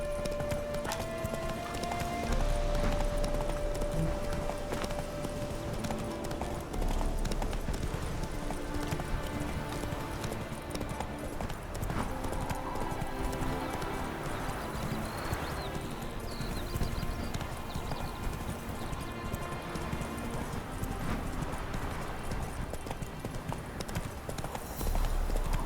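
Roach, a horse in The Witcher 3, gallops with steady rhythmic clip-clop hoofbeats under a continuous game music bed, with an occasional faint whinny.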